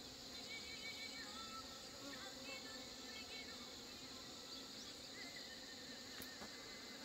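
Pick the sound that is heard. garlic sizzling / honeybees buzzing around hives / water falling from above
honeybees buzzing around hives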